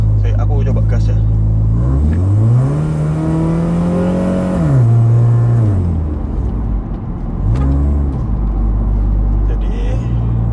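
A Honda Civic FD1 engine revs and climbs in pitch as it accelerates, drops back, then revs briefly again, loud and close from inside the car, with a person talking over it.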